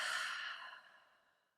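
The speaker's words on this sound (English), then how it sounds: "So nice big breath in through the nose. Let it out the mouth." A single slow, deep breath drawn in through the nose and let out through the mouth during a guided relaxation, close and soft, fading away over about a second and a half.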